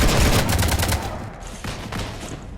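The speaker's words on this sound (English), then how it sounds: "You want to stop shooting up my ship?" Gunfire in Mass Effect 3, a dense, loud burst of rapid shots that rattles on, thins briefly, then resumes with a few more scattered reports.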